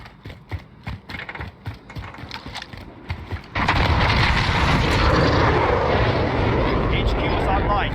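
An enemy VTOL aircraft in a military shooter video game roars overhead, a loud broad engine wash rising suddenly and holding steady after a stretch of clicking and gunfire-like taps.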